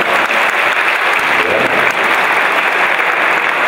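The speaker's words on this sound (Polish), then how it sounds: "Wielkie brawa." Loud, sustained applause from a large crowd fills the whole stretch, steady and dense without pause, at a speedway team presentation for KS ROW Rybnik.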